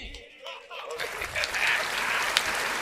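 An audience at a Hindi kavi sammelan poetry recital breaks into dense, steady applause after a brief quieter lead-in.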